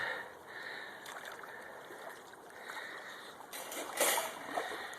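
Water running down a gold sluice box over carpet mats, a continuous rushing trickle and splash up close that swells louder near the end.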